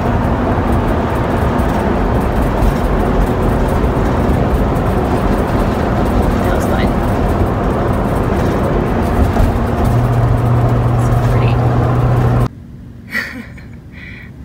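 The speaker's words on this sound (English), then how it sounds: "We're going through a tunnel in the mountain." A car drives through a mountain tunnel in Colorado, giving a steady loud roar of road and engine noise that drops off suddenly near the end as it emerges.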